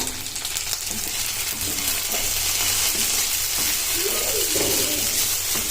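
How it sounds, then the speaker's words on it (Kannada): Chopped madde kayi (a vegetable) frying in oil in a pan, a steady loud sizzle that runs throughout with a few faint scraping sounds. "ಚೆನ್ನಾಗಿ ಚೆಂದ ಕಟ್ ಮಾಡ್ಕೊಂಡಿರೋಂಥ ಮಡ್ಡೆಕಾಯಿಗೆ ಸ್ವಲ್ಪ ಎಣ್ಣೆ ಹಾಕ್ಕೊಂಡು ಚೆನ್ನಾಗಿ ಬೇಯಿಸ್ಕೋಬೇಕು"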